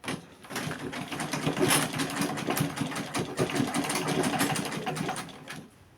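A sewing machine stitches lace onto a crop top, a close, rapid mechanical chatter that runs steadily for several seconds before stopping.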